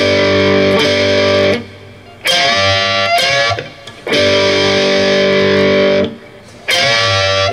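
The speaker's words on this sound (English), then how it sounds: "I almost feel like we need more distortion" Electric guitar with heavy distortion plays sustained chords and bent notes from a song, loud thick held tones broken by brief pauses and re-struck attacks.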